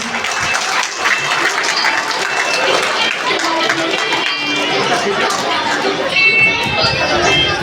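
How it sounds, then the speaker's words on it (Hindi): A crowd at a school's first annual day function greets its guests with loud, dense applause that keeps up steadily throughout, with voices and crowd chatter mixed in. "एक बार जोरदार तालियों से सभी का स्वागत करें।"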